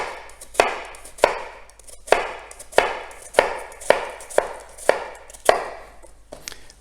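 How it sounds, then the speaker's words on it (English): A knife chops through an onion on a cutting board, using the claw grip for finely slicing downward, with about nine evenly spaced sharp thuds close up and no talking. "using the claw method again, chop the onion"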